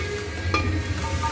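Hot oil tempering poured into a pot of dal sizzles in a steady, close frying hiss with a brief sharper spatter near the middle, no talking over it.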